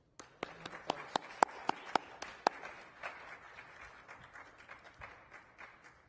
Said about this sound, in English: And a round of applause for all of our healthcare workers.